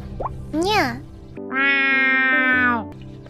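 A voice imitates a cat with a rising and falling meow, then holds a long, steady nasal cat-like cry.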